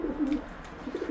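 Racing pigeons coo softly and close by in a brief low, throaty burble, with no talking.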